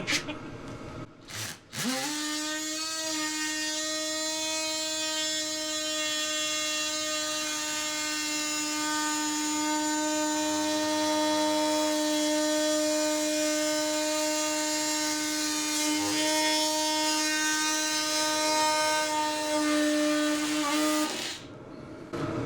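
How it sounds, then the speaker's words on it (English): An oscillating multi-tool cuts a hole for a plastic rib nut while fitting a tire clearance kit on a 2024 GMC Sierra HD, a loud, steady high-pitched buzzing whine sustained for about twenty seconds after a brief start-up. "Lesson number 101 in using a multi-tool. Aim it at the project Pull trigger."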